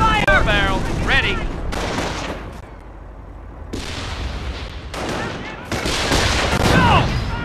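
Automatic gunfire and explosions in the video game Company of Heroes: dense bursts of shooting and booms layered together, loud and chaotic, with shouted voices over the battle.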